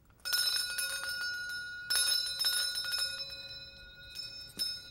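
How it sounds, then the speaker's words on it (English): A bright bell rings in several loud, sustained bursts with ringing overtones, pausing between strikes and ending on a sharp final hit, with no talk over it. "Bell."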